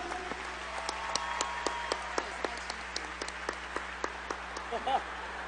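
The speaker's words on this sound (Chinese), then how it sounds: "给我先生一个热烈的掌声。" Scattered clapping from an audience at a large sales convention, a sparse run of distinct claps in a roomy hall, fairly soft and ending with a brief voice.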